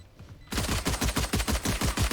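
Rapid automatic gunfire in the Valorant video game, a dense burst of shots in a fast steady rhythm that starts suddenly and runs loud and close for about a second and a half.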